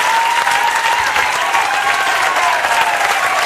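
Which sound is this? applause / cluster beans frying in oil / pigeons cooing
applause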